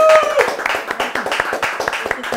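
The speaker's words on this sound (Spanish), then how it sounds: "Un aplauso" A television studio audience claps to welcome a guest, with brisk, crisp claps from a modest crowd, close and fairly loud, while a voice talks over the start.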